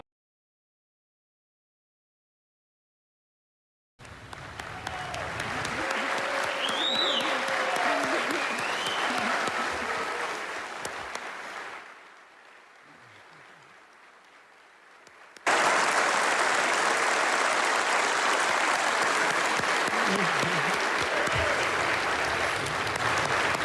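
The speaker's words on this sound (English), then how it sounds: "Obviously, applause in that room." Applause fills a congressional room: loud, dense clapping from many people that swells, eases for a few seconds, then surges back even stronger and carries on steadily.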